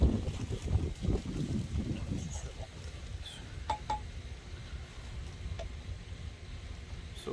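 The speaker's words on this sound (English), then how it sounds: "Holy cow, it's very windy." Strong wind blusters against the microphone outdoors in heavy, uneven low gusts that ease after the first couple of seconds, with a few faint clinks and taps of handling underneath.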